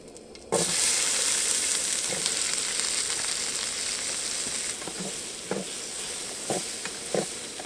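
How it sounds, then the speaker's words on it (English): Mushrooms and tomatoes sizzle loudly as they hit a hot oiled pan for a breakfast burrito, a steady close frying hiss broken by a few stirring scrapes. "I'm just going to get some mushrooms and some tomatoes in here."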